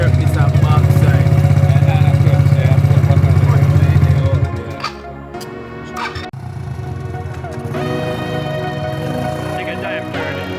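A quad bike engine revs hard and steadily, then drops to a lower idle-like drone after a gear change and rises again slightly, close and loud.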